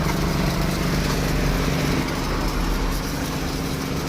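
Motorcycle engine idling steadily outdoors at a coin-operated wash vending machine, a low continuous rumble with a constant hum and no talk.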